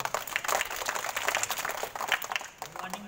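Children clap as a group at a rural health camp, a brisk scattered patter of many hands that fades toward the end, with a voice briefly heard.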